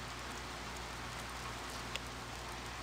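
Heavy rain in the video game Uncharted Waters 4 sounds as a soft, steady patter with a faint constant hum beneath it and one small click near the end, with no speech.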